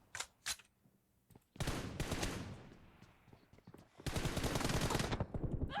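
Opponent gunfire in PUBG Mobile comes in short bursts of rapid automatic shots, with a couple of isolated cracks first and then two long, loud volleys separated by a quieter gap.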